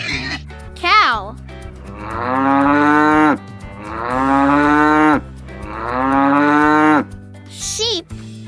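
A cow moos three times in long, loud, drawn-out calls with brief gaps between them, set over soft background music in a children's animal sounds lesson.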